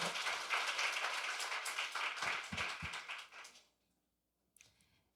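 Audience at a Korean youth climate conference session gives brisk, dense applause to welcome a speaker to the stage, then stops abruptly into near silence before a brief faint noise at the end.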